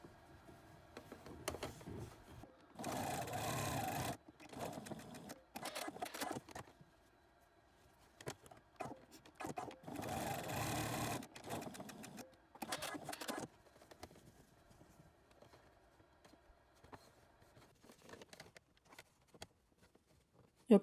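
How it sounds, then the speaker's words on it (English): Sewing machine stitching the darts of a fabric face mask, heard in two long steady runs of mechanical whirring with shorter bursts and quiet pauses between them. "Now let's sew the darts."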